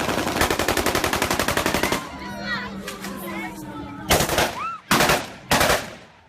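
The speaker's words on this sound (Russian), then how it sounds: "стреляет из автомата" Automatic rifle fire at a wedding: a rapid loud burst of shots, then a pause with distant whistles and voices, followed by several more short, sharp bursts.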